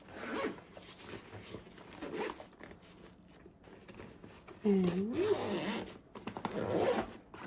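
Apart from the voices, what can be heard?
zipping up a packed travel bag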